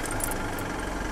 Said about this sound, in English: Let's start up the car again.